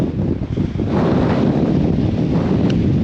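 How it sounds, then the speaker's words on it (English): Strong wind buffets the microphone in a loud, continuous roar on a Cairngorms mountain, with heavy low rumble and no voices. "Oh, that's windy."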